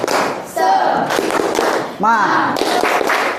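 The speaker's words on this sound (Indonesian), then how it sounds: "Terus kita melakukan tepuk semangat ya." A class of students claps together in a quick, steady rhythm, with voices shouting in unison between the beats.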